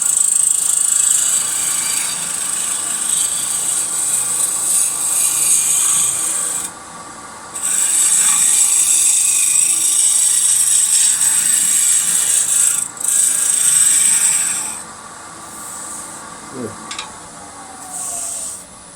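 A woodturning tool roughs a green log spinning on a lathe, giving a continuous loud scraping hiss of cutting wood, broken by a few short pauses where the tool lifts off.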